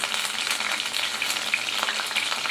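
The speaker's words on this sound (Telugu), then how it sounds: "ఆయిల్ వేడెక్కాక కొంచెం కరివేపాకు వేసుకోవాలి." Curry leaves fry in hot oil in a pan, making a dense, steady crackling sizzle that carries on alone without pause.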